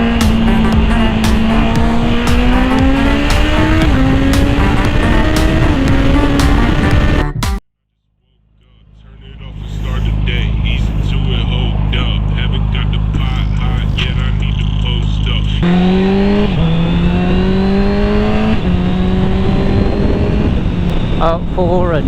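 A 2024 Honda CBR650R engine on the road revs up and down through the gears, loud and close with wind rush, falls silent briefly, then builds again, with a rider talking over it.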